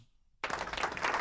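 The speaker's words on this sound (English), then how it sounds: "Really, that long of applause?" Applause from an audience bursts in after a brief quiet moment, a dense wash of many hands clapping that builds slightly and continues to the end.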